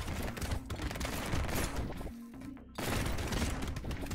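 Heavy gunfire floods the video game Brotato in dense, rapid bursts of shots and impacts, a continuous barrage with a brief lull near the middle before resuming at full intensity.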